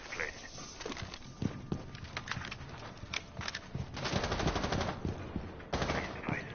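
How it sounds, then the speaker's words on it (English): Rapid gunfire rattles through a Rainbow Six Siege ranked match, bursts of automatic shots and single cracks coming in clusters over a steady game background, without clear talk. "Where are they shooting from?"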